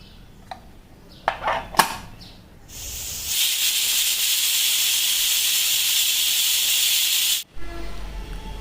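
A few clinks and taps, then a pressure cooker cooking pav bhaji lets out a loud, steady hiss of escaping steam for several seconds before abruptly stopping.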